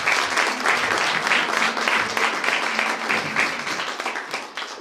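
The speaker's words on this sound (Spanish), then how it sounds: "Recibámoslo con fuertes aplausos." Audience applause at a book presentation during an international women writers' meeting, a steady, dense wash of many hands clapping that holds throughout and tails off slightly at the end.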